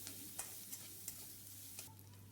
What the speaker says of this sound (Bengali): লাল লাল করে আমি পেঁয়াজটাকে ভেজে নেব।